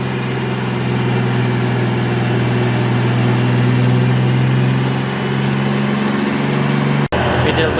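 An R33 Skyline engine fitted with a small journal-bearing turbo runs under load, making a loud, sustained drone with steady harmonic tones that cuts out abruptly just before the end.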